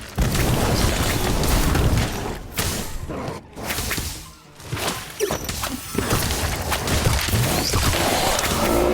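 An Incendio fire spell is cast in the video game Harry Potter Magic Awakened, a loud, dense burst of whooshing flame and booming impact that swells, briefly drops away, then roars on over a sustained rumble.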